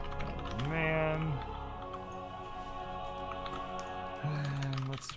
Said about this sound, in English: we don't need to hear mechanical keyboard clack, clack, clack, clack, clack, clack in the background